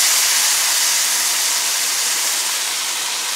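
Soy sauce hitting a hot pan with garlic, a loud steady broadband sizzle that hisses evenly throughout without pause, no talk over it.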